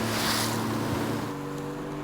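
A fishing boat heads out through wind and waves off Huizhou Island, with a steady engine hum under loud, rushing wind and surf noise that fades slightly toward the end.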